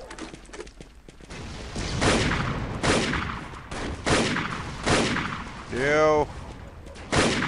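Pistol gunfire in the animal-themed shooter Gundog, with a run of sharp shots spaced a second or so apart over game noise, a rising electronic warble near the end and a brief spoken word.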